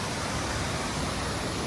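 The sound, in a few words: man-made waterfall at Wichita Falls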